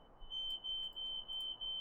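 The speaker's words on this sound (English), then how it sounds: "that was the fire alarm going off" Indoor smoke alarm sounding, a steady high-pitched shrill tone pulsing in short bursts, moderately loud with no voices.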